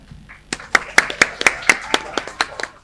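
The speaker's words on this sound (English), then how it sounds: "Let's show our appreciation for Ronnakit's achievement with a big cheer." A small group claps in a loose, roughly even rhythm of distinct, fairly close handclaps with no clear cheering, set against faint background voices.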